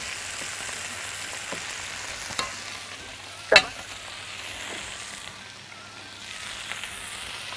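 Peppers and onions cook in olive oil with vegetable stock cubes, making a soft, steady sizzle broken by a few sharp spatters and one louder pop in the middle, with no talking.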